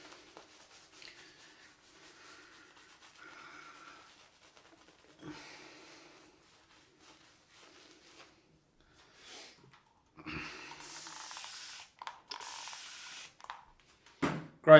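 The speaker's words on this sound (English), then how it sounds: "spray a little bit of water in here." A few short hissing bursts of water sprayed onto a shaving brush close by, coming in quick succession after a quiet stretch with faint rustling.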